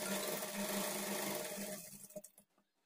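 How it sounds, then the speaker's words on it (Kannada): Sewing machine running a fast continuous double stitch on a plain blouse, a close whirring buzz that stops abruptly, followed by a few soft clicks and handling taps. "ಇಲ್ಲಿ ನೀವು ಶೋಲ್ಡರ್ವರೆಗೂ ಡಬಲ್ ಸ್ಟಿಚ್ ಹಾಕ್ಕೊಂಡು ಎಂಡ್ ಮಾಡ್ಕೊಳ್ಳಿ"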